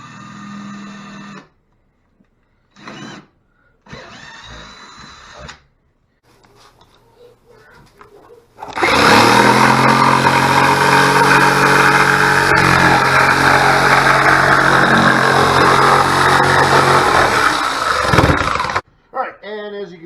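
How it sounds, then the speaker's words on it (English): A loud power drill with a large bit whirs steadily for about ten seconds, boring a guide hole into wood for a wood duck box, after short bursts of sound and quiet. "take your drill and your large drill bit and drill a guide hole into"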